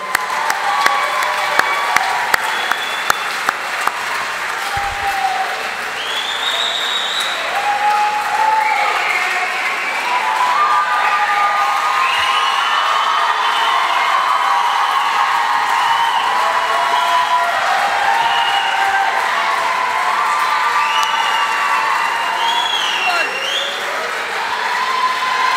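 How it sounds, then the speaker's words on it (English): A large audience at a sports awards ceremony claps and cheers loudly and steadily for about twenty-five seconds, with whoops and scattered voices rising within the sustained applause. "Big round of applause to you all."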